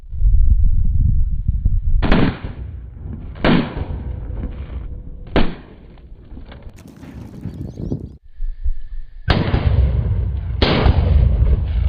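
Sky shot fireworks filled with colour powder for a Republic Day display burst outdoors in a series of loud sharp bangs, each trailing into crackle and rumble, with several spaced blasts and a denser volley near the end.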